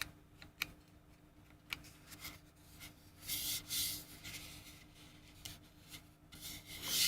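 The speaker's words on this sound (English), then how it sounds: "I can feel this plastic vacuuming accessory." A hand rubs and feels over the coarse, scraped surface of a plastic vacuum cleaner accessory, making faint, uneven scratchy rubbing with a few brief louder swipes and a steady low background hum.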